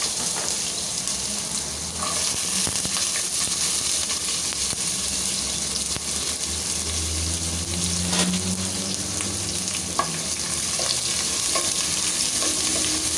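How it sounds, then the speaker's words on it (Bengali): Onion, green chili, garlic and shrimp fry in a pan with a continuous close sizzle, while stirring and occasional clinks of a utensil sound against the pan and a faint tap runs in the background. "পাশের চুলায় আমি পেঁয়াজ কাঁচামরিচ রসুন দিয়ে হচ্ছে একটু ভেজে তারপরে চিংড়ি মাছ দিয়েও একটু ভেজে নিচ্ছিলাম"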